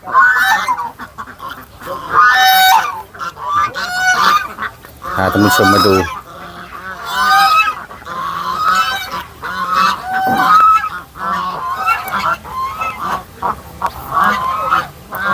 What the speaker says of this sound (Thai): อันนี้ก็คือ ห่านจีนนะครับ ที่อยู่ในฟาร์มเรา